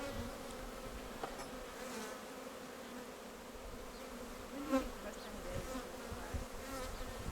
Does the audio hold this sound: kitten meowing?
no